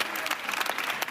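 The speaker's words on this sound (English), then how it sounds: "Leaving court to applause and admiration." Outside a French court, a crowd of supporters claps in a brief, dense burst as a woman leaves the building.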